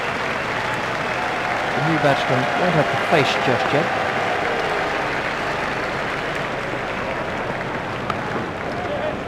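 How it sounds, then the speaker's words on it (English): Cricket crowd at a South Africa versus Australia one-day international applauding Gibbs' innings, a steady wash of clapping and crowd noise running throughout beneath a commentator's voice. "He deserves the applause from the crowd."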